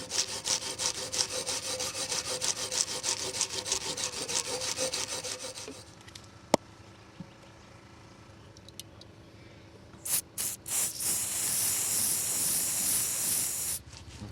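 A rag scrubs old epoxy away from the edge of a two-inch crack in quick, rasping back-and-forth strokes, falls quiet for a few seconds, then returns as a sustained hissing rub.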